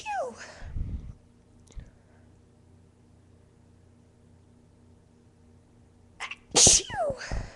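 Two induced sneezes from a young woman, one near the start and a sharper, louder one near the end, separated by a long stretch of near-silent room tone with a faint steady hum.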